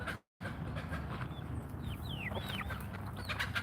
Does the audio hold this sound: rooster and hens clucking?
yes